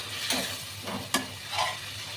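A splash of water hits a very hot frying pan, giving a loud hissing sizzle with a few sharp bursts amid steady frying noise, close up and without talk.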